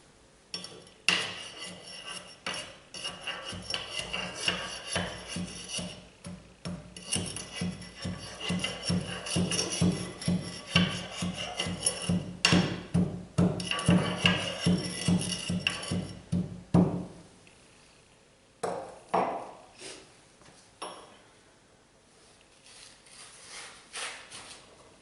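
Soil specimen layers being compacted for a triaxial test, a fast run of sharp tamping knocks that builds steadily and stops abruptly, followed by scattered clinks and handling noises.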